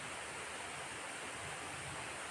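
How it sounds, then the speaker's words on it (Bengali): Heavy rain falling outdoors, a dense, even roar of broadband hiss that stays constant and unbroken, heard alone without voices. "প্রচুর পরিমাণে বৃষ্টি হচ্ছে আমাদের এইদিকে"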